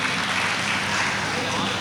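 Audience applause at a journalists' endowment award ceremony in Chitradurga welcoming a guest, a dense, steady wash of many hands clapping that fills the hall for a couple of seconds.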